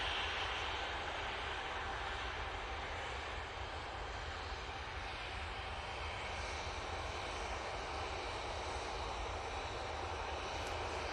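EasyJet airliner on the runway at Manchester Airport, a faint, steady distant engine roar with broadband hiss, unbroken and without talk.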